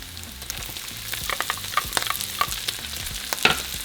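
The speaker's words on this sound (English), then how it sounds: "And we're going to cook the onion for a couple minutes." Onion fries in a pan with a continuous crackling sizzle, broken by frequent stirring scrapes and small spattering pops, close and moderately loud.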